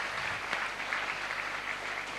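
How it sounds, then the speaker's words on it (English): Commerce students at a college induction programme applaud in a hall, a dense continuous wash of clapping from a large crowd, steady and fairly distant with no clear talk. "Can commerce give a good round of applause?"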